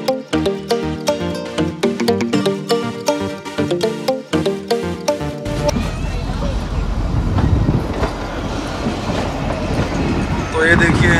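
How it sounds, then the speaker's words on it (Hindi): The Kalka–Shimla toy train starts moving at Dharampur station: tonal music plays for several seconds, then gives way to a loud, steady rolling rumble and rail clatter that swells toward the end. "और अभी ट्रेन चलने ही वाली है"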